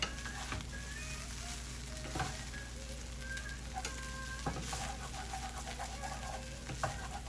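Egg fried rice with soy and turmeric being stirred and broken up in a pan, steady soft sizzle with repeated scraping strokes, and birds chirping faintly in the background.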